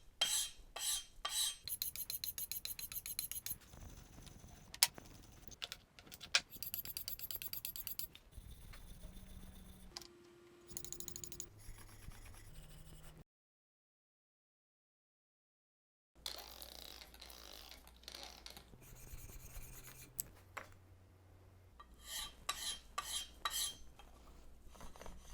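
A brand new chisel is drawn across a sharpening stone in repeated scraping, rasping strokes, close and quiet, with irregular bursts separated by pauses, some low tonal hums and a long silent gap partway through.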